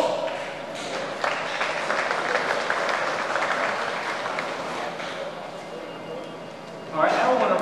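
Steady applause fills a room at an EMS Week luncheon, a sustained crowd clapping at even loudness that swells briefly near the end.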